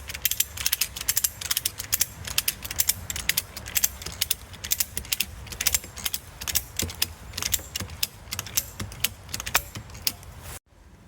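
A ratchet strap cranked to tighten a ninja slackline, with rapid repeated metallic clicks in bursts, close and loud, before stopping abruptly at the end.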